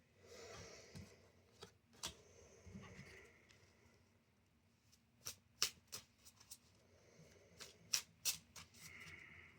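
Tarot cards are riffled and bridged in several quick bursts, with sharp snaps and soft fluttering between pauses, close and fairly quiet.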